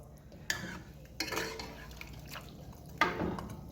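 Trinidad stewed chicken being stirred in a pot, three soft scraping, sloshing strokes against a low, quiet background, close and faint with no talk.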